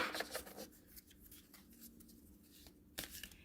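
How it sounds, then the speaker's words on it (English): Oracle cards shuffled by hand, a close, soft run of papery riffling and rubbing with short louder bursts at the start and near the end, no voices. "let me see how these cards are to shuffle"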